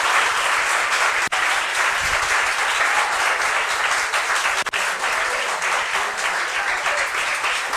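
An audience at a school quiz competition claps loudly and continuously, a dense, even roar of many hands filling the whole stretch without pause.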